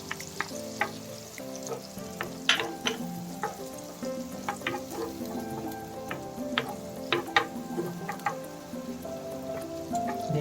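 White onion frying in a pan for Hungarian sausage sisig, a busy continuous sizzle with frequent crackles and pops, close and fairly loud, with no speech.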